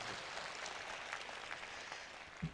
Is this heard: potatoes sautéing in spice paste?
no